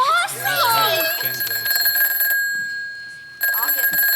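A telephone rings on stage during a school Christmas stage play, a steady electronic tone that stops briefly and then resumes, with young voices singing or talking at the start.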